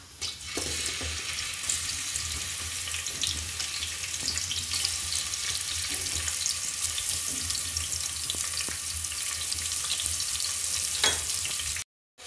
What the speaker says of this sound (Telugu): ఇప్పుడు ఉల్లిగడ్డని మనం మగ్గబెట్టుకుంటున్నాము.